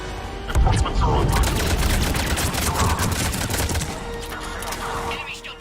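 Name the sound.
gunfire in a video game attack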